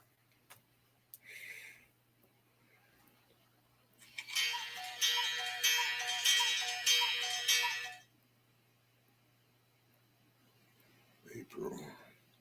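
A phone ringtone or notification plays for about four seconds as a bright, repeating electronic chime, fairly loud and alone, between brief bits of speech and quiet room tone.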